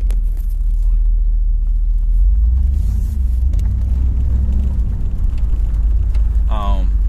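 A 1990 Chevrolet Camaro IROC Z driving on the road, with a steady low engine rumble and road noise throughout, a brief higher whine near the end.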